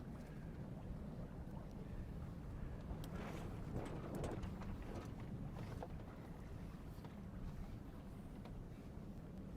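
Gusty wind buffets a sailboat, a low, rumbling roar with louder puffs in the middle and water noise underneath, fairly faint overall.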